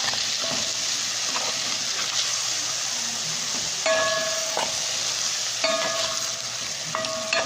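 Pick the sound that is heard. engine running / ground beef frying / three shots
ground beef frying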